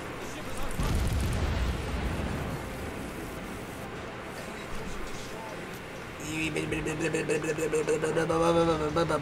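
Heavy naval gunfire and explosions from a World of Warships battle, with booming blasts and rumbling impacts, followed by a harsher mechanical roar with repeated pulses in the later seconds, loud and close.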